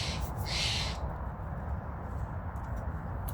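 An owl hoots once, fairly close, over a steady broadband rush of wind or outdoor noise, with no talking.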